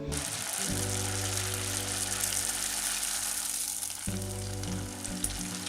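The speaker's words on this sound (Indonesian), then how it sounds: "kita bisa menggoreng sampel di dalam panci kecil yang dalam" Oil sizzles and crackles continuously as food deep-fries in a small deep pot, a steady bright hiss with low hum underneath, close and fairly loud throughout.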